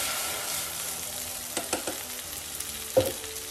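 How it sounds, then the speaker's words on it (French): Turmeric-grilled vegetables in a pan being deglazed with coconut milk: a steady hissing sizzle with a few soft stirring scrapes and one sharper clink near the end, close by. "Et là maintenant, je vais venir déglacer avec le lait de coco."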